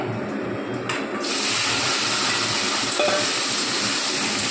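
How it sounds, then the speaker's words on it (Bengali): Katla fish rubbed with salt and turmeric fries in oil, a constant, dense hiss and sizzle that runs steadily throughout, fairly loud and close, with no speech over it. "কাতলা মাছের নুন হলুদ দিয়ে ভাজছে"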